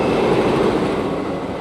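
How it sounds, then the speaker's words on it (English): The Wicker Man wooden roller coaster at Alton Towers runs on an evening night ride, its train thundering round the track in a steady, loud, continuous rumbling roar with no voices. "running a 2-train service this evening and warmed up and whipping itself round the track."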